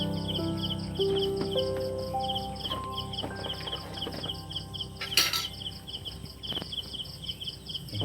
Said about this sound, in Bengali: এখানটায় বন্ধুরা ঝিঝি পোকা ডাকছে এখন